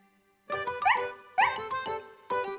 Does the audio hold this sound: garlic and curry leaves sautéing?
no